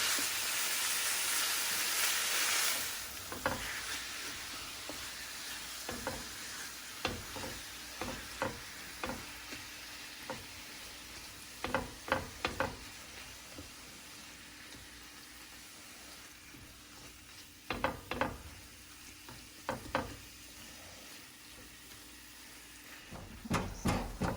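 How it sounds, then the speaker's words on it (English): Ground beef and onions for Jamaican beef patties sizzle in a pan, with a steady frying hiss at first and then repeated sharp scraping and stirring knocks as the meat is broken up. "these onions will finish cooking down while the meat is cooking"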